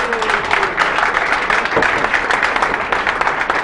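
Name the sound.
applause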